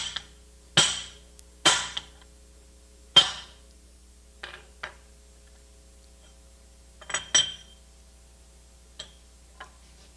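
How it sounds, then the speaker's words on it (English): Sharp metallic hammer blows on a cone bushing driver seat a bushing around its lip during a car front-end rebuild: about eight separate strikes, close and loud, in uneven bunches with quiet gaps between. "drive the bushing into place until it's seated around its lip"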